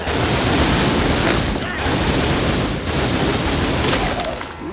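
Dense, sustained gunfire from the zombie shooter The Typing of the Dead: Overkill, loud and continuous with rapid overlapping shots and brief dips, a voice faintly present underneath.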